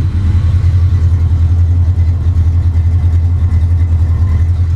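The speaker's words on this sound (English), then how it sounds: "Here's a side clip of the exhaust." A loud, deep exhaust from a 1993 Ford Mustang LX Fox Body rumbles steadily at close range, a throaty V8 burble holding a constant low throb throughout.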